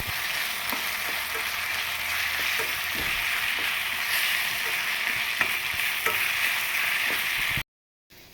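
Turmeric gets stirred into a sizzling tempering for poha, a steady crackling fry with scattered spoon scrapes and taps, no talking, ending in brief silence.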